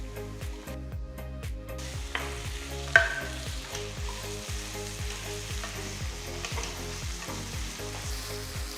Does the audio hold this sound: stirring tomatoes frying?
yes